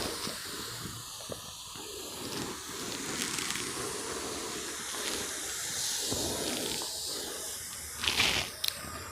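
Water hissing and splashing as a potted Kamla Labu (orange) plant is thoroughly washed down from the base upward, a steady close spray with irregular splatters throughout.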